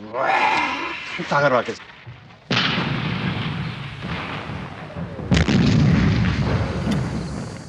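Artillery shells firing and landing in the 1941 battle for Hong Kong, heavy booms and blasts with sustained rumbling, mixed with a voice speaking early on, loud and close.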